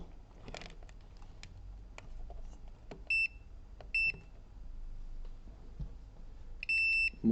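Short electronic beeps from a multimeter in continuity mode during a laptop short-circuit repair sound three times: a brief tone, another about a second later, then a longer one near the end, over quiet clicks and handling noise.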